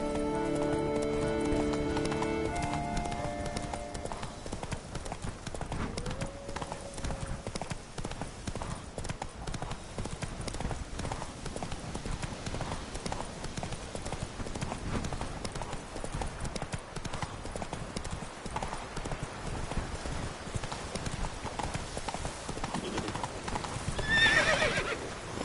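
Roach, a horse in The Witcher 3: Blood and Wine, trots with steady clip-clopping hooves throughout, a whinny near the start, and a rider's calls mixed in under game ambience.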